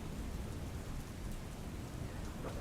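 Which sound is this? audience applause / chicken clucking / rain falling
rain falling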